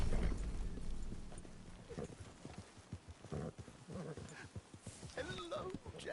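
Horse hooves clip-clopping on a trail in the Red Dead video game, a steady walking rhythm of soft thuds close by, with game voices talking over the hoofbeats.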